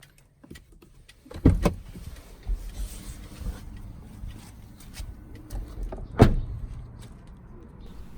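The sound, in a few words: Lexus RX 300 central lock operated with new key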